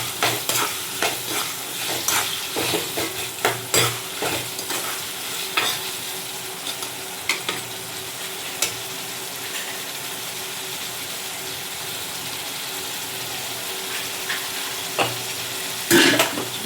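Chopped tomatoes sauté in hot oil in a pan for a garlic-pepper kulambu. They sizzle steadily while a spoon scrapes and stirs in repeated close strokes, with a brief louder burst of stirring near the end and no talk.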